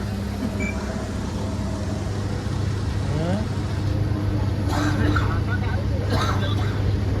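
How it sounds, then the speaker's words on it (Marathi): A tourist vehicle passes on the road with a steady engine rumble and road noise that swells slightly toward the middle, with faint voices in the background. "टुरिस्ट गाडी."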